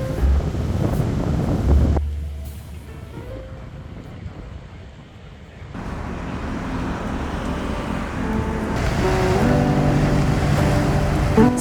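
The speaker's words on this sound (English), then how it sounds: "the sea breeze is very cold as it is very windy now" Strong, cold sea wind buffets the microphone at a fishing port in Taiwan over a steady roar of sea and distant engine rumble, gusting harder at the start and end.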